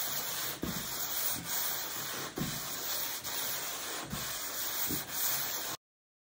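Abrasive sanding board rubbed back and forth along the grain of a wooden stand up paddle board, giving a steady close scraping hiss with regular strokes about every second and no talking.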